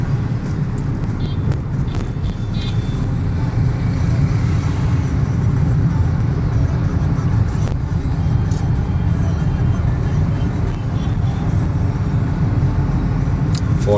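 A car engine drones steadily and loud through a driving lesson as the gear is shifted up into third, with low road rumble throughout and a voice talking over it.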